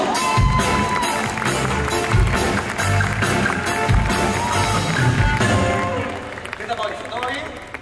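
Audience applause and cheering greet a performer on stage, loud dense clapping with bursts of whoops. It carries strongly for several seconds and then thins out toward the end.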